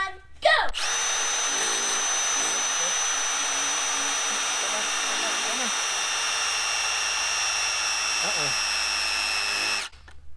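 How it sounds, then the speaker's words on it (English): A Milwaukee Gen 3 Fuel impact driver sinks a 4-inch lag bolt in one loud, close, continuous run of about nine seconds that starts and stops abruptly, with brief voices at the edges. "Final test with the Milwaukee Gen 3 Fuel Impact. We'll do the 4-inch bolt."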